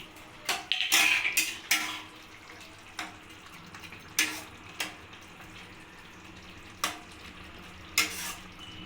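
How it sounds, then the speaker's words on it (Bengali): Amudi fish curry in a pan, topped with chopped coriander, is stirred with a metal utensil: sharp clinks and scrapes come in irregular bursts over a low, soft sizzle, with no voices. "দিয়ে এবার ভালো করে নাড়িয়ে দেবো"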